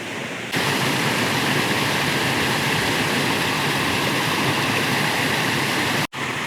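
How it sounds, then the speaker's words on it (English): Water pours steadily over a small weir into a flowing stream, a loud, close, unbroken rush that cuts off briefly near the end. "I'm going to take a shot of this little weir waterfall"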